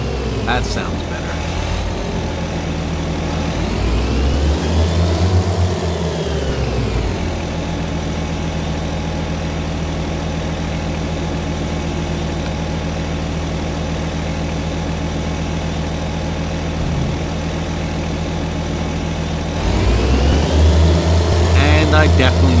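Engine of a Jacto sugarcane harvester in Farming Simulator 22, a steady droning mechanical hum with tonal whine that rises in pitch and volume near the start and again near the end, then settles into a constant run.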